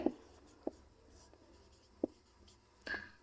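A pen writing on paper during a maths lesson, heard as a few faint, sparse scratches and taps over quiet room tone, with no talking.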